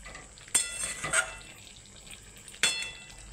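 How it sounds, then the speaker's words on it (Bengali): Chicken is turned and fried in a pan, with a soft steady sizzle broken by a few sharp clanks of a utensil against the pan, close but quiet. "আবার উল্টি পাল্টি দিয়ে কত সহজেই রান্না করা যায় দেখুন চিকেন, কত জলদি।"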